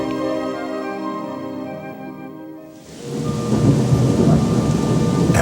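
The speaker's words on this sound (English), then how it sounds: "A wild and turbulent storm took control of my hot air balloon and sent me far off course." Thunderstorm during a balloon flight: a long, deep thunder rumble gives way to a sudden heavy downpour of steady rain hissing loudly and close, with no voices.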